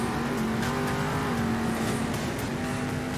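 Monster truck engine roaring in the racing video game Monster Jam Steel Titans, a steady loud drone with a sustained engine tone and bursts of noise throughout.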